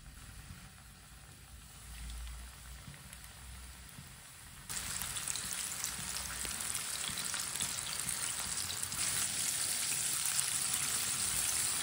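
Chicken frying in hot ghee, a constant crackling sizzle that jumps louder partway through and keeps hissing steadily, with no one talking.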